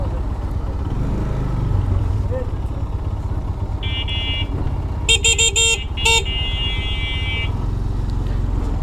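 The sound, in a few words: traffic jam with car horns honking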